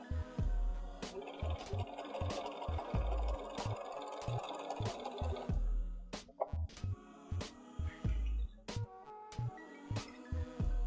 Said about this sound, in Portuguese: E aí você vai passar uma costura bem nessa linha aqui, ok?